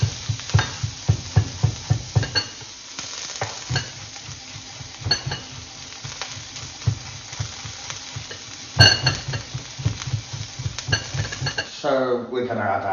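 Garlic and ginger go into a pan of frying onions for crispy chilli beef, with rhythmic spoon scraping and stirring over a soft sizzle and a clank of the pan near the end.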